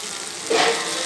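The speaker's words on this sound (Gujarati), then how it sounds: "તળ્યાની સાથે જ સરસ ગરમ ગરમ થઈ જાય છે." Jalebi batter hitting hot oil, a continuous hiss of frying that swells into a louder sizzle midway and stays steady, close and without speech.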